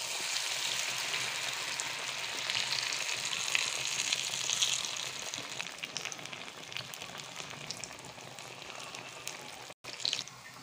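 Bread slices coated in batter and breadcrumbs shallow-frying for Hyderabadi aloo toast, a continuous crackling sizzle of hot oil, close and fairly steady, easing slightly near the end with a brief dropout.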